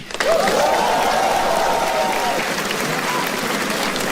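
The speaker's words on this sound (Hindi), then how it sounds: "थोड़ी तालियां हमारे ओपनिंग एक्ट के लिए भी।" A live stand-up comedy crowd breaks into loud applause for the opening act, dense clapping that starts abruptly and holds steady, with some cheering and a whistle over it.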